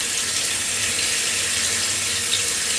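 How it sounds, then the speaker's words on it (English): Tap water runs steadily over a chicken drumstick in a kitchen sink, a close, continuous splashing rush with no talking. "I am going to give the drumstick a wash"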